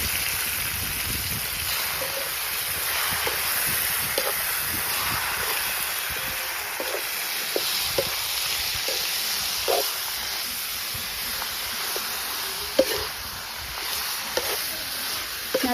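Chicken frying for milagai kari, a steady loud sizzle and hiss in the pan with scattered small scraping ticks from stirring.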